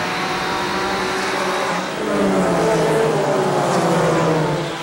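NASCAR race cars roar around Myrtle Beach Speedway in the 1994 Carolina Pride / Budweiser 250, a loud continuous engine drone with rising and falling pitch as cars pass close by.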